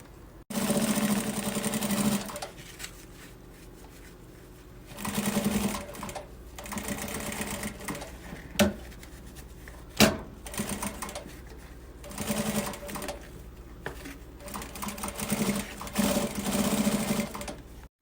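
A sewing machine stitches over a previous seam on a fabric pencil case, running in several close, loud bursts of rapid whirring with short pauses between them.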